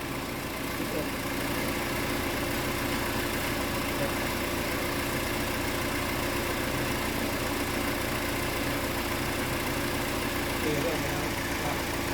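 A BMW X1 engine (138,266 km) idles steadily at low revs with the hood open, a constant droning hum with faint vibration and no change in pitch throughout.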